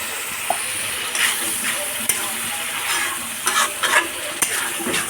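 Spice paste of dried red chilli paste, salt and turmeric stir-fried in oil for a Bengali koi fish curry, with a soft sizzle and intermittent scraping strokes of a spatula against the pan.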